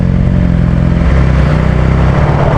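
BMW S1000 XR motorcycle engine and exhaust while riding, a steady loud drone with low harmonic engine tones that shift slightly in pitch, mixed with rushing wind noise throughout, no speech.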